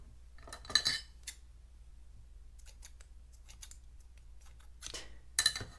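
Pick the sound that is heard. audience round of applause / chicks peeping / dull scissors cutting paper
dull scissors cutting paper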